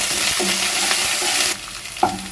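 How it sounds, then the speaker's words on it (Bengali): Onions and ginger garlic paste fry in a pan with a loud, continuous sizzle, broken by brief stirring scrapes near the middle and end; up close and without voices. "এবার আমি এর মধ্যে দিয়ে দেবো এক চামচ পরিমাণ আদা রসুন বাটা আবারও কিন্তু আমি দু মিনিট মতো একটু ভেজে নেব"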